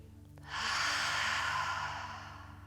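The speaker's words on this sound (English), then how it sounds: "Big, sweeping, audible morning breaths." One long, deep audible breath during a morning yoga flow, a close, airy rush that swells quickly and then slowly fades out over a couple of seconds, heard alone against a faint background hum.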